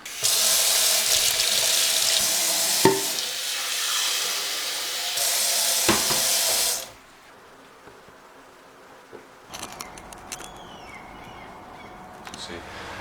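Tap water runs hard into a kitchen sink for several seconds while the basin is emptied and refilled to change the water, then cuts off, leaving a quiet room with faint clinks and handling noises.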